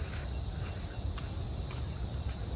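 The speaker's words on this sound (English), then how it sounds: "Crickets." Crickets chirp in a steady, continuous high-pitched trill near Coolum Beach, holding an even level throughout with no voices.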